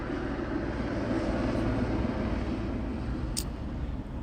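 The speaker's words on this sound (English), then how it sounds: "The LAPD helicopter is still overhead" An LAPD helicopter hovers overhead at night in Los Angeles, its rotor and engine making a steady, fairly distant drone that holds even and unbroken throughout, with no voices.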